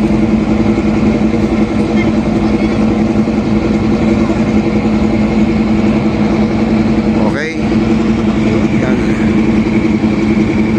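A floating bridge boat's engine running at a dock on the Pasig River by the Esplanade, a loud, steady mid-pitched drone with one brief dip, heard up close.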